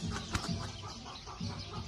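Young chicks about six to eight weeks old on a farm pen, giving soft clucks and peeps with a brief wing flutter, close by and fairly quiet.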